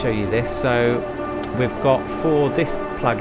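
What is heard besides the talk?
None of the usual background noises is heard.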